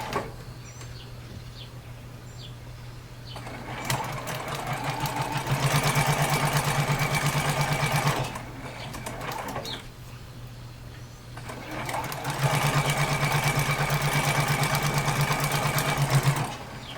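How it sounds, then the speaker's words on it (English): A sewing machine stitches a hat seam in two steady bursts of several seconds each, close by, with a quiet pause between runs. "we're ready to start sewing now."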